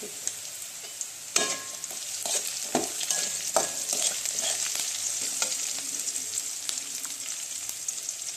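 Asafoetida drops into hot oil for a spiced potato fry and sizzles in a bright, continuous crackle, close and fairly loud, with scattered clicks and taps of a spoon stirring the pan.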